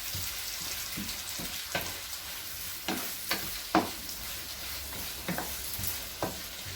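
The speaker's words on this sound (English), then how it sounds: "carrots, green pepper, mix it together." Carrots and green pepper are stirred in a hot pan, a soft steady sizzle broken by repeated scraping and clicking strokes of a spoon every second or so, close by and with no talk.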